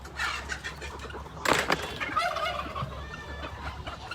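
Farm chickens flock and cluck busily over thrown greens, a dense chorus of clucks and gobbling calls with a sharp rustle and thump as the food lands.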